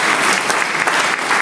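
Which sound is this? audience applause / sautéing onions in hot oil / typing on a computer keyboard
audience applause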